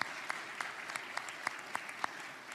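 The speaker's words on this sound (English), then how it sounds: "We should give them a round of applause." A political rally audience in Calgary applauds, with scattered individual claps standing out over a softer, steady wash of clapping.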